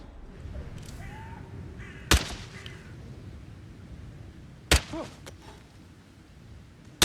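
Crows cawing in the Hitman 3 video game, set in Dartmoor: a few harsh calls rise over a steady ambient bed, with two sharp thumps standing out along the way.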